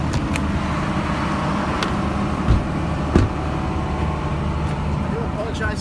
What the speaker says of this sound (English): There's a massive power generator there.